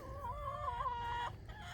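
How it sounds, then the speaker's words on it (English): Chickens cluck and murmur softly nearby under trees in a field, a steady run of low calls, fairly quiet, with a faint hum underneath. "I do keep the chickens here under the trees for their safety and protection."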